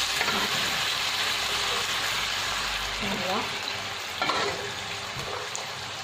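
Chicken kebab for an Algerian tagine sizzles and fries in a pan, a steady close crackle with occasional stirring scrapes while someone talks over it.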